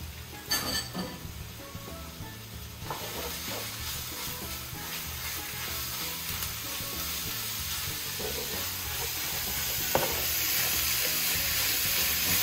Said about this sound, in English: so I'm gonna add my beef now